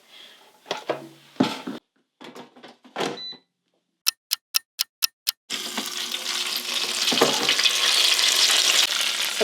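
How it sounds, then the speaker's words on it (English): An air fryer cooking keto snacks: some handling clatter, then a rapid run of six sharp ticks, followed by a loud, steady fan whoosh that settles in and continues close by. "I'm going to put them back into my air fryer, and I'm going to cook them for about another 6 to 7 minutes"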